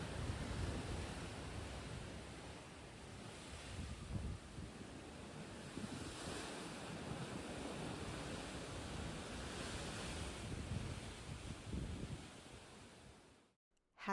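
Rough sea heard from the deck of a cruise ship, a continuous low rushing wash of waves mixed with wind buffeting the microphone, steady and fairly faint throughout before cutting off at the end.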